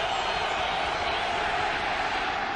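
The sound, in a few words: stadium crowd cheering at NFL football game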